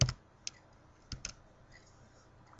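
Typing on a computer keyboard while coding a database connection: a few sparse, faint key clicks spaced irregularly over a quiet background.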